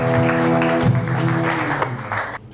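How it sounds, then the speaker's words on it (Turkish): Studio audience applause on a late-night Turkish talk show, with clapping sounding over a sustained musical tone that cuts off abruptly at the end. "Alkışlıyoruz, bravo."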